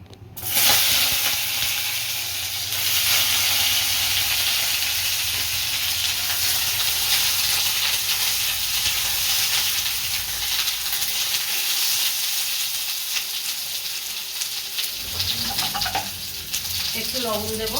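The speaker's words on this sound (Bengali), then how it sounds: "এই তেলেই আমি পটলটা ভেজে নেব।" Pointed gourd (potol) frying in oil, a loud continuous sizzle and hiss that carries on steadily, with occasional stirring scrapes and a brief clatter near the end.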